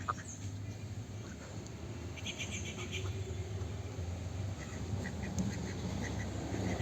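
Village ducks raised on a pond, feeding on fish and grass, let out a few faint, scattered quacks over a steady low engine-like hum that runs throughout.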